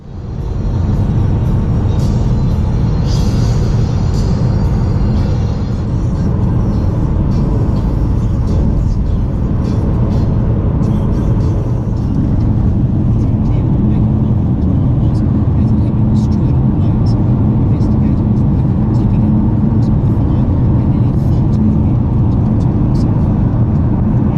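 A car cruises along a road on New Zealand's South Island, giving a loud, steady cabin rumble and road roar that fills the whole stretch, with a voice talking over it.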